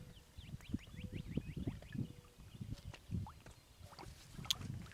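A kayak being paddled across water, with soft rhythmic splashes and dips of the paddle coming every half second or so, faint and close.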